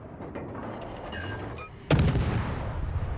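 Naval gunfire in World of Warships, a single sudden loud cannon blast with a long rumbling tail after a stretch of quieter engine and ambient game noise.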